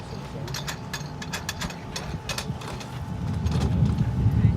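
Fire service rescue struts being ratcheted to stabilize a vehicle during an extrication demonstration, a run of rapid metallic clicks in uneven bursts over a background of rumbling activity.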